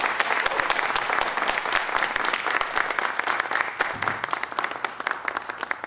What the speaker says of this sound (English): Please give a round of applause to Jordan and Tristan for being here.